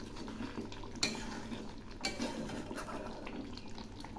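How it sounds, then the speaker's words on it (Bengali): A spatula stirs aloo potol curry, potato and pointed gourd, in a pan, giving two sharp metal clinks against the pan amid a steady low scraping and simmer, close and moderately loud, with no talking. "আবার একটু নেড়ে দিচ্ছি।"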